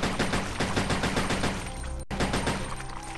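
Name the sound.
gunshots in video game Resident Evil Code Veronica X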